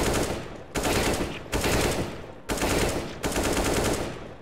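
Loud automatic gunfire from CS:GO on an aim practice map, coming in repeated sustained bursts of about a second each, separated by brief gaps, with no voices over it.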